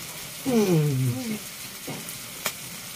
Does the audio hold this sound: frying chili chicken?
yes